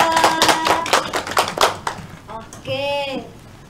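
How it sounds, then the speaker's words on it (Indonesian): A group of students claps for a classmate in a classroom, a burst of brisk, overlapping hand claps that fades after a couple of seconds, followed by a short voice. "Kita kasih tepuk tangan Mbak Krista."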